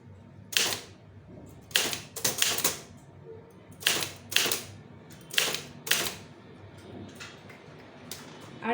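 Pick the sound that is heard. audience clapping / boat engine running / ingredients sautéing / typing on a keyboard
typing on a keyboard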